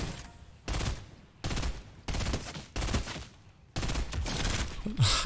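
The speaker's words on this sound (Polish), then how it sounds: "Tam się chłopy strzelają." Players trade gunfire in Fortnite: a series of distinct bursts of rapid automatic shots, separated by short pauses, at moderate distance.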